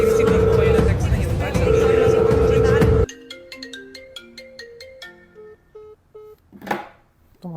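A phone announcing an incoming call plays a loud melodic ringtone over a dense backing, then cuts to a sparse run of clear electronic tones and a short sweeping note.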